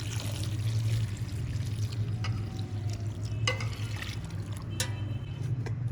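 Water is poured into a pot of spiced mixed dal with chili powder, turmeric and fenugreek, a steady close splashing and trickling with a few clinks of a utensil.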